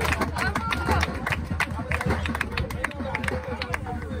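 Crowd applause at an outdoor community celebration in Kawbé, with steady dense clapping mixed with crowd hubbub and chatter, fairly loud and continuous throughout.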